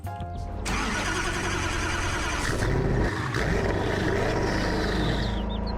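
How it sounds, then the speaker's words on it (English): Koenigsegg supercar engine firing up in the game Unturned, a loud burst at the start settling into a steady, full idle rumble that holds throughout with slight revving swells. "Yep, definitely a Koenigsegg startup."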